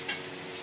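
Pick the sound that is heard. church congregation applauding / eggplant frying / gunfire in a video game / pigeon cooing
eggplant frying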